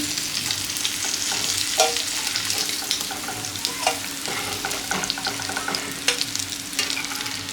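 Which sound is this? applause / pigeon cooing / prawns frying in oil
prawns frying in oil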